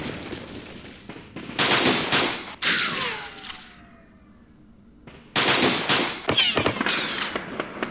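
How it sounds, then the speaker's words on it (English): Gunfire in the wargame Campaign Series Middle East during an Arab-Israeli War attack on the Latrun police fortress, loud rapid bursts of automatic fire with echoing tails, a quieter gap, then more volleys. "We're firing once again at the Latrin Police Fortress."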